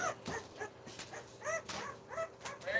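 A puppy whimpers and yips in a string of short, high, whiny cries at close range, rising and falling over a few seconds with no talking.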